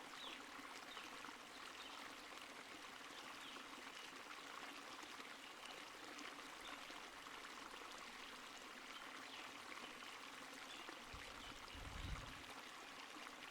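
A river current flows by in a steady, soft rush of water with gentle trickling, constant and even throughout, ending with a brief low thump.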